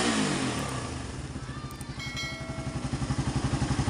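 A carburetted Suzuki Raider 150 motorcycle starts and settles into a steady, loud idle with a pulsing, rhythmic engine beat close to the microphone.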